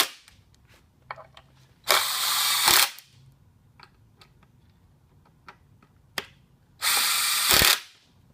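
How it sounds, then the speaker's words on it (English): A power drill drives into wood while building a garden bed, giving two loud bursts of whirring several seconds apart, with quiet pauses and small clicks and knocks in between. "There's a button on the side of the drill. So I'm going to make sure I've got it going forward."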